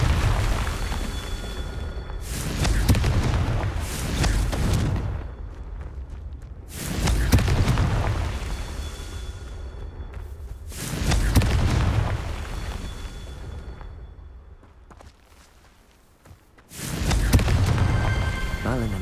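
Confringo blast spells detonate in the Hogwarts Legacy video game, four heavy explosive bursts spaced a few seconds apart, each booming and then trailing off into quieter ambience.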